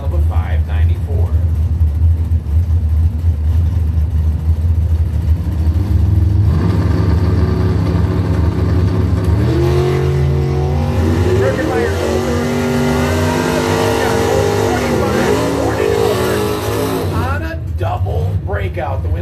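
At a drag strip, an '84 Regal and a 1971 Rambler Vega Wagon rev loudly and roar off the line, the engine note climbing and fading into the distance under a track announcer's steady commentary.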